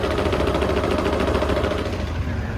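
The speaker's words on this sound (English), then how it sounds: "Let me turn this pump on. You can hear that thing running too." A pump on a 2012 Ram 4500 Cummins 6.7 diesel service truck hums steadily alongside the engine, a continuous close mechanical drone with a fine rapid pulsing and no talk.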